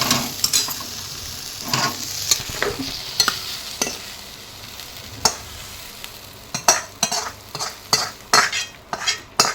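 Spices are roasted in a pan for Khandeshi shev bhaji, a soft sizzle under repeated sharp scrapes and clinks of a spoon stirring against the pan, close and intermittent, with no talking.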